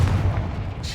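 A loud, deep explosion from the Confringo blasting spell in the Hogwarts Legacy video game, one sustained booming burst that fills the moment.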